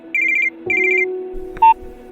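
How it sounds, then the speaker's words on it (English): A telephone rings in two short trilling bursts with a pause between, set against a steady background hum, followed by a brief electronic beep. "Panic ensues as his phone rings."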